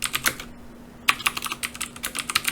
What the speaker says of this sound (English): I just picked up a mechanical keyboard and it feels amazing, but it's really loud.